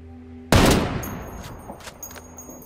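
Gunfire in the Ghost Recon Wildlands video game: one loud, close shot with a decaying rumble, followed by fainter ringing and small clicks.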